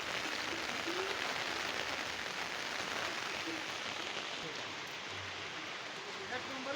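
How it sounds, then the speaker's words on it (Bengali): Heavy rain pours down in a steady, dense hiss that stays loud and unbroken, with a low rumble beneath. No speech is heard. "এমন বৃষ্টি নামছে ভাই বৃষ্টির মানে মানে তুলনাহীন বৃষ্টি নামছে"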